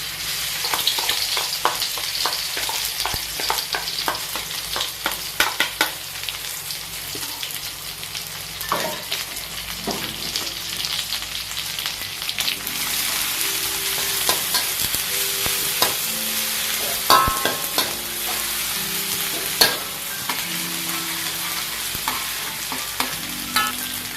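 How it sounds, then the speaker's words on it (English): Garlic, shallot, anchovies and belacan sizzle steadily as they are stir fried in a pan, with frequent scraping and clinking of a spatula over a constant frying hiss. "stir fry the garlic, shallot, anchovies, and belacan"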